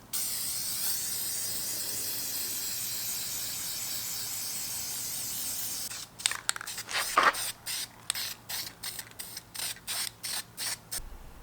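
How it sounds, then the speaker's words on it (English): Brake cleaner sprays from an aerosol can onto engine parts in a long, steady, loud hiss lasting about six seconds, followed by a run of short, rapid bursts. "Brake clean everything first."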